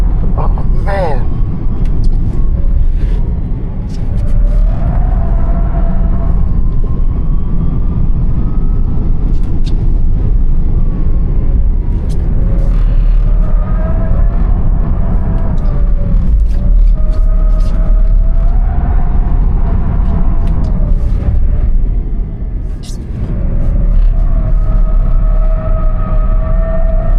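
A Tesla Cybertruck slides through a turn in Baja mode, its electric drive whining and rising and falling over a loud, constant tire and road rumble, with a voice talking over it.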